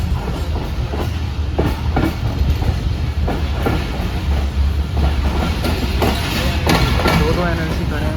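The 151UP Shah Latif passenger train rolls on the rails between Karachi and Hyderabad into Kotri Junction, a loud steady rumble with clattering wheel beats and someone talking over it.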